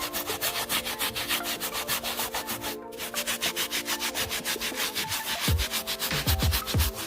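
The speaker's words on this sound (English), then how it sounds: "take our scrub brush here and rub that into the" A scrub brush rubs carpet cleaner into a carpet in fast, rhythmic back-and-forth strokes, close and scratchy, continuing steadily with no talk.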